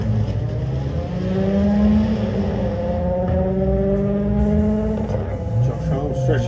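Front-wheel drive Vauxhall Corsa fitted with a Saab engine drag racing down the strip, its loud sustained engine note climbing steadily in pitch through the gears for several seconds, with announcer commentary running over the top.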